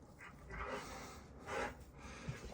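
Several playful, worked-up dogs near a fishing boat in the morning: a soft, fairly quiet mix of panting, breathy whines and a few muffled barks in two short bursts, with no speech.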